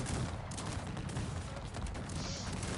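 Rapid volleys of video game gunfire from Cossacks 3, Poland versus Netherlands, crackle continuously in a busy, dense battle mix, shots overlapping without pause.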